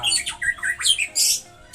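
A white-rumped shama (murai batu) kept as a bred songbird calls in a series of bright, shrill squawks and chirps, close and loud, in quick bursts with short gaps.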